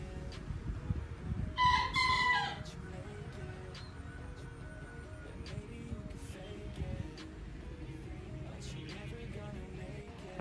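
A rooster crows once early on, loud and close, over a steady background of wind and chicken clucking.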